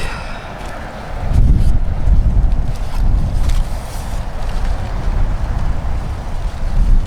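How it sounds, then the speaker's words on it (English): Wind blowing outdoors, heard as a steady, loud low rumble buffeting the microphone, with gusts that rise and fall throughout. "The wind's blowing that way"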